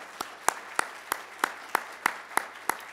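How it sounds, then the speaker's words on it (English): A few people clapping for project participants, sparse evenly spaced claps, about nine distinct slaps in a slow steady rhythm, close and moderately loud with no talk. "let's give a round of applause for Hadas, Olivia, and everyone that participated in the Top Health Project."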